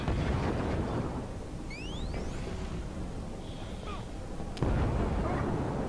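Light arms gunfire hammers a mech in the video game Killzone 3, a loud, dense, continuous battle rattle that ends in a sharp, heavy blast near the close.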